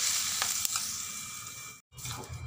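Hot oil crackles and sizzles steadily as tempering spices and curry leaves hit the pan for raw onion chutney, with a brief silent gap before the sizzling resumes.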